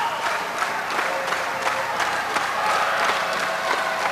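A 1991 wrestling arena crowd roaring and applauding for a bleeding wrestler, a dense, continuous wall of cheers and clapping that swells slightly midway, heard from within the audience.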